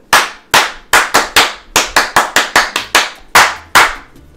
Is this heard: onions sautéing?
no